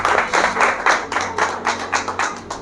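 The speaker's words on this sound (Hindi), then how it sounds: "सब ताली बजाएंगे प्रभु की महिमा के लिए।" A church congregation at a Sunday worship service claps together in a steady, even rhythm, about four to five claps per second, close and lively.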